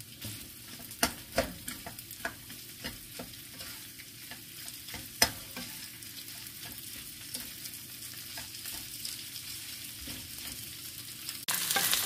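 Plain rice is stir-fried in a pan with bulgogi for fried rice, producing a string of scraping spatula knocks over a soft sizzle, with a louder burst of hissing at the very end.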